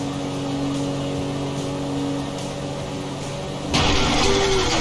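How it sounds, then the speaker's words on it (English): A car engine in Grand Theft Auto 5 runs with a steady drone, then surges louder and rougher near the end as it fails, with no talk over it. "Now that doesn't sound good. Damn, that's the engine, man."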